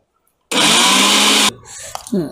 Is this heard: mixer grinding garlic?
yes